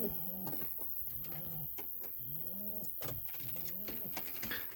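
Pigeons coo in a loft where young pairs nest, repeated soft throaty rolling calls close by against a constant hiss, with a few faint knocks.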